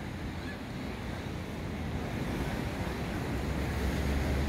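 Sea waves washing onto the beach at Nesebar in summer, a steady low surf rumble mixed with wind buffeting the microphone, growing slightly stronger toward the end, with no voices.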